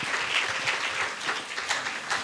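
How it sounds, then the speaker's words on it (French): A church congregation at a Sunday service applauds together, a continuous, full crowd clapping that stays loud and steady from start to finish. "On acclame le Seigneur"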